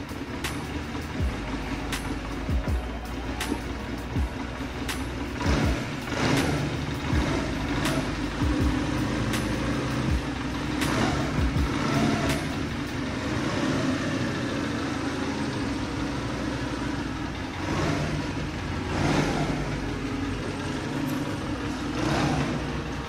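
A Honda CM 125 C motorcycle engine ticks over at a steady idle, a low continuous rumble with faint irregular clicks and knocks, and no voices over it.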